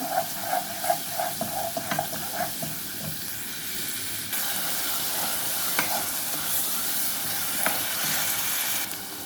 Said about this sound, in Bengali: ট্যাংরা মাছটা দিয়ে দিচ্ছি।